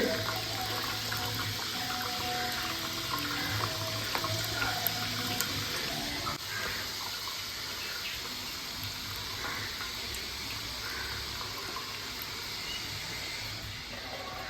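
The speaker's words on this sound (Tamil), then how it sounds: "தண்ணியை வடித்து விட்டு" Water pours and splashes steadily for several seconds, a continuous close rushing sound of cooking water being drained off from a pot.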